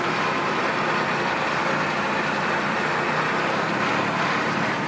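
Kubota L4400 tractor fitted with a BH92 backhoe and hydraulic thumb, driving with a steady, loud engine drone and no pauses.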